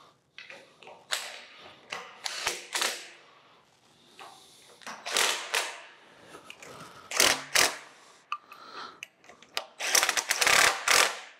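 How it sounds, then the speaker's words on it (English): Screws being snugged down on a babbitt bearing housing of an old bandsaw under restoration, heard as a series of close, intermittent metallic ratcheting clicks in short bursts with quiet gaps between them. "we will put our screws back in here and see if we can snug this thing down"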